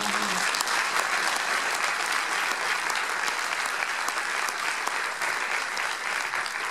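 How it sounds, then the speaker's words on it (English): Sustained audience applause at a mayor's third-term swearing-in in Morristown, a dense, even wash of many hands clapping at steady volume throughout. "So I'd like to give them a round of applause"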